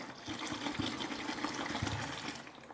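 Water, about 50 cl, is poured into a milky homemade antiseptic disinfectant mixture, giving a steady, fairly quiet splashing gush that runs the whole moment.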